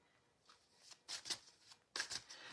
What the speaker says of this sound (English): Now shuffling my Angel Rose Oracle, beautiful Oracle of St. Therese, and the Archangels.